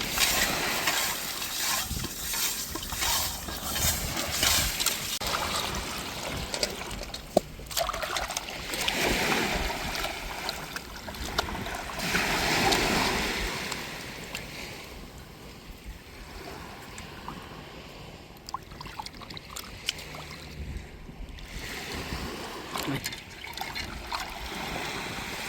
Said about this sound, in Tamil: இதோடு நம்ம உப்புக்கல்லை போட்டு மண் சட்டியில் நல்லா உரசனோம்னா இன்னும் இதில் வெடுக்கு தன்மை நல்லா போகுங்க